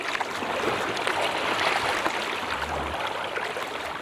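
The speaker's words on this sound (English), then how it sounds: "I'm paddling a remote stretch of the coastline outside of Seward, Alaska, without gear" A kayak paddles along a remote Alaskan coastline near Seward, with steady water splashing and trickling around the hull under a constant broadband wash of moving water, no voices.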